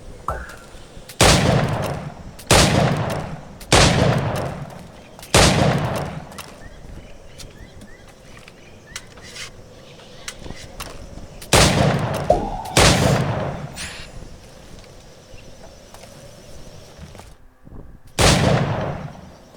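Gunshots ring out at target practice in the video game Assassin's Creed IV Black Flag, a series of loud, sharp reports with echoing tails, some in quick succession and others spaced apart by several seconds.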